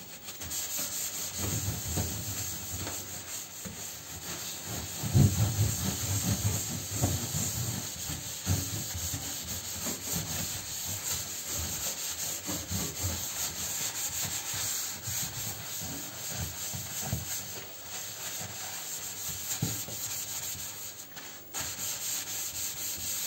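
Cleaning cream being rubbed onto a sink in a steady scrubbing and polishing motion, a continuous close-up rasping hiss with no talk over it.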